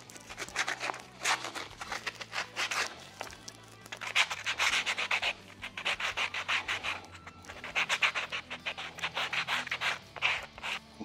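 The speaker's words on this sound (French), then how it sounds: "On ponce." A Gibson SG guitar body being sanded by hand during finishing, with close, rhythmic back-and-forth scraping strokes in bursts and short pauses between them.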